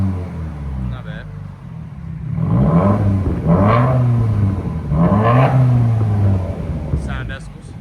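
Straight-piped 2017 Subaru WRX 2.0L turbo with mid and rear pipes deleted, blipped from a burbling idle through three loud, rising rev pulls that each fall back, with a brief clatter at the end.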